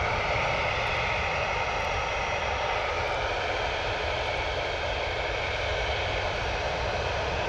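Juneyao Airlines airliner taxiing at Manchester Airport while waiting for a parking slot, a steady, loud broadband jet engine roar that holds evenly throughout with no talk.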